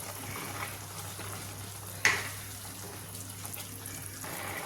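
Beetroot cooks in sugar and ghee in a pan with a faint, steady sizzle and a single small clink partway through, quiet and without talk.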